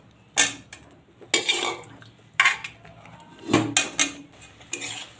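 Boiled potato stirred into cooked tomato in a pan gives six sharp metal-on-pan scrapes and clinks at roughly one-second intervals, close and distinct against a quiet background.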